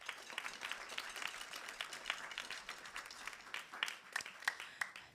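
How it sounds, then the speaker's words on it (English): An audience at a school jazz band concert applauds the band parent, steady dense clapping heard from a distance and fairly soft, lasting several seconds and thinning toward the end. "So let's give her a big round of applause as well."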